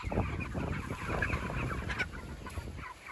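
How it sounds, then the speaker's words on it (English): Chickens forage in fresh grass, clucking softly and pecking at close range, with a busy, continuous murmur of low fowl calls and rustling. "Some of them are right at the front edge, looking for bugs, hunting, pecking."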